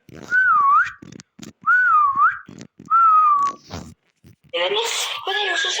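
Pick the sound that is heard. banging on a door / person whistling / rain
person whistling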